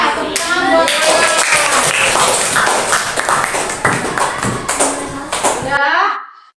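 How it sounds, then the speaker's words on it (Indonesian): Classroom applause in a lesson on reaching puberty, as children clap together for a classmate who answered correctly, a dense burst of many hands that runs steadily for about six seconds with children's voices mixed in before stopping abruptly. "Ya, tepuk tangan buat Alam."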